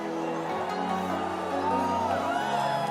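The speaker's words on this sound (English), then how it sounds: "The crowd, of course, making their voices heard." Esports grand-final crowd at ESL One Mumbai, Mineski versus Keen Gaming, roars in a dense, sustained wall of cheering and chanting voices that fills the arena without pause.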